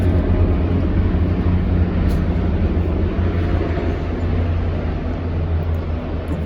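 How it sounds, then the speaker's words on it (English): A big Chinook helicopter passes overhead as a loud, steady low rotor rumble that fills the whole stretch, dense and constant, heard alone without talk. "I think it's one of the Chinooks."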